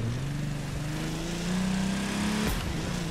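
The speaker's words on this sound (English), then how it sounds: "Give it some revs and then launch it." A DeLorean in the video game The Crew 2 holds a loud, steady engine drone at launch, its pitch climbing gradually before a brief shift, with no talk over it.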